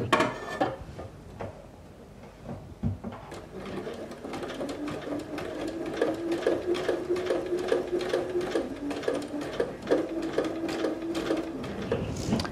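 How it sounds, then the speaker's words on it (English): A sewing machine stitching a seam, running steadily with a rapid rhythmic chatter for most of the stretch after a few quiet handling clicks at the start. "I'm going to sew right outside that line"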